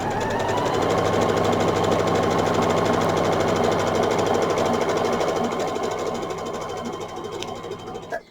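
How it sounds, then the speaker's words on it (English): A sewing machine stitches a quilt seam in a fast, steady mechanical whir with even needle rattling, close and loud, slowing and stopping near the end. "to do is sew around a 1/4 inch on all 4 sides"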